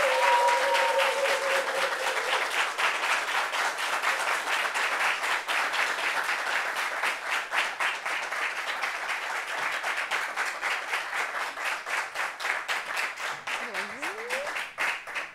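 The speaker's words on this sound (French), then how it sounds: "On applaudit pour elle." An audience applauds a guest being welcomed, a sustained, even wash of clapping from many hands that carries on throughout, with a brief voice near the end.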